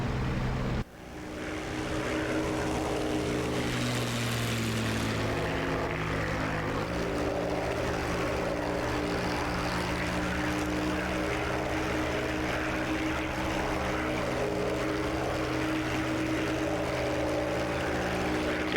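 A propeller aircraft engine throttles up for takeoff on a dive bomb attack run, a sudden click then a sustained loud droning roar that steadies into a constant throbbing hum, no voices.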